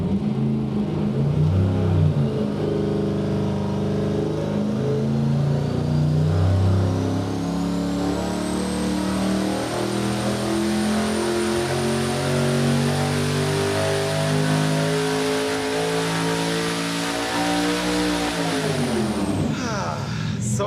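A 1,500 hp engine built on a junkyard short block runs a dyno pull, a loud sustained roar that climbs steadily in pitch through the rev range, then cuts off abruptly at the end.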